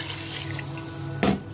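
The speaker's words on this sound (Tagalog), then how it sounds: "maglalagay na po ako ng tubig dito." Water is poured into a cooking pot for chicken tinola, a short splashing gush near the end after a quiet run of faint kitchen hum.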